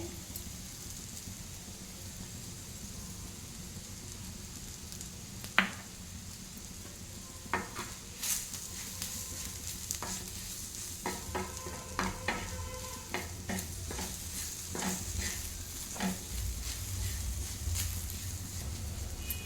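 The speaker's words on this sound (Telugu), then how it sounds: "ఇప్పుడు ఇందులోనే శనగపిండి వేసుకోవాలి" Okra (ladies finger) frying in a pan gives off a soft, continuous sizzle as gram flour is stirred in, with scattered clicks and scrapes from the spoon growing busier midway through.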